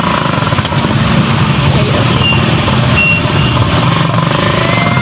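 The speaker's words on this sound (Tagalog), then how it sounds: "nakikita yun naman kung gaano kapagod yung motor namin sapagkat daming karga yan, mabibigat na kahoy" A motorcycle engine labours loudly under a heavy load of firewood in heavy traffic, a constant close droning rumble with faint road noise around it.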